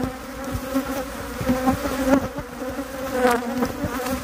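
A colony of bees buzzes angrily and steadily, close and dense, with a few louder swells of droning as individual bees pass near.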